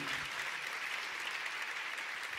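A church congregation applauding after a sermon, a dense steady clatter of many hands clapping together, continuous and fairly distant throughout the short burst.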